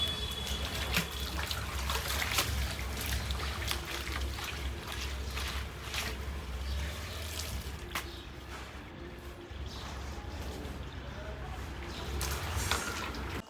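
Clothes being washed by hand with water, a steady sloshing and splashing with faint rubbing that continues throughout, while someone talks intermittently.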